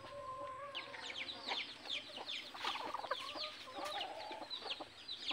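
A captured talisayin red junglefowl clucks close by in quick, broken bursts of short calls and chatter, with no talking.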